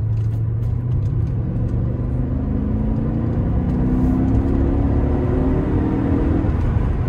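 A 2008 Mercedes-Benz CLK 550 Convertible accelerating hard on an open road, a steady loud engine drone with rising revs climbing through the gears under heavy road rumble.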